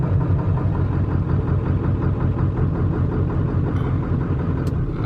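Tuned 7.3 diesel engine in an OBS truck idling with a steady, uneven lope, a loud close rumble that continues without a break.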